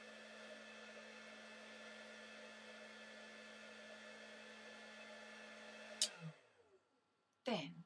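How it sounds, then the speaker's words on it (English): Heat gun blowing on a paper mâché bead, a steady close airy whoosh with a low hum that cuts off near the six-second mark, followed by a few brief handling clicks. "put it in front of the heat gun"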